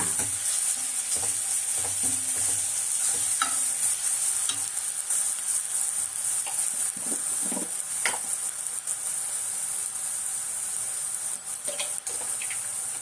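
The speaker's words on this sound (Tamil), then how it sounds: "வெங்காயம் வதங்கிறதுக்கு கொஞ்சமாக உப்பு போட்டுக்கணும்" Onions sautéing with a pinch of salt in a pan while a utensil stirs them, a steady close sizzle with intermittent scraping clinks throughout, no talking.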